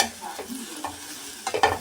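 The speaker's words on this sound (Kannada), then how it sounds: "ಪಾಲಕ್ ಸೊಪ್ಪನ್ನು ಬಾಣಲೆಗೆ ಹಾಕಿ ಚೆನ್ನಾಗಿ ಹುರ್ಕೋಬೇಕು." Spinach leaves stirred in a pan, a soft continuous scrape-and-rustle with a few brief louder clatters near the end, close by with no talking.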